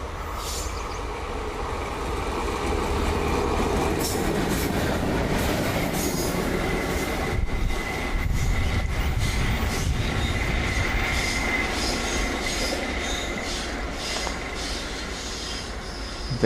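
A light locomotive runs along railway track in India, a loud, continuous rumble of wheels on rails with rhythmic clatter and faint squeal, sustained throughout with no voices.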